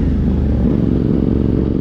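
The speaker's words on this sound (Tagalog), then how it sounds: "Buhay na buhay pa rin kahit pinasok na ng tubig yung makina." A 450MT motorcycle engine, still running after water got into it, idles with a loud, steady low rumble and fast pulsing throb throughout the short stretch, with no talking.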